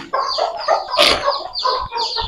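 Chickens cluck and squawk in a poultry farm shed, a busy close chorus of overlapping clucks with a few louder calls, no clear talking.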